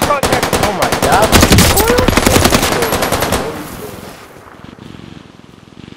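Loud, rapid automatic machine-gun bursts in the shooter game Call of Duty: Warzone Pacific, a dense rattling stream of shots for about three seconds that then drops off to quieter, scattered background noise.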